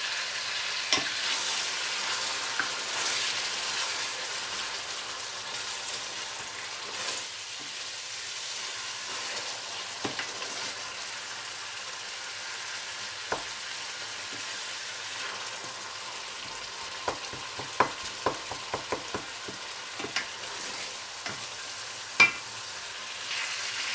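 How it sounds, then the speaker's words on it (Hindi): Potato and brinjal sabzi with tomato and puree being fried in a pan, a quiet steady sizzle broken by scattered spatula scrapes and taps that cluster in the latter half. "अब हम इसको भूनेंगे"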